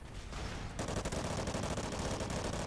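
Rapid continuous automatic gunfire in the shooter game Call of Duty: Ghosts multiplayer, dense close bursts that start after a brief quieter moment and keep firing without pause.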